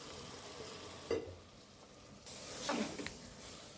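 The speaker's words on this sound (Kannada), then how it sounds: "ತರಕಾರಿ ಜೊತೆಗೆ ಚೆನ್ನಾಗಿ ಮಿಕ್ಸ್ ಮಾಡ್ಕೊಳ್ತಾ ಇದ್ದೀನಿ" Washed rice and vegetables stirred in a pot for palav, a few soft scraping and sizzling strokes from a spoon, faint and close over a quiet background, with no talk.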